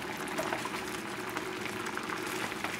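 Risotto with spinach and mushroom bubbling on a high flame, a soft continuous simmering burble with no other sounds.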